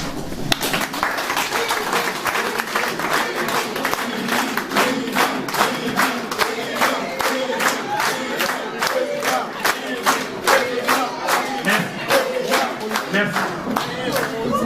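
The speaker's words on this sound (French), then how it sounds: "Je vous demande de vous lever pour applaudir" A crowd at a political party meeting in Paris stands and applauds, with sustained rhythmic clapping and shouts and cheers mixed in.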